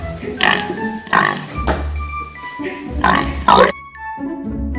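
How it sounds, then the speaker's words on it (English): A pink pig grunts and oinks in a series of short, rough, close bursts with brief pauses between them, ending in a sharper squeal. "Pig oinking."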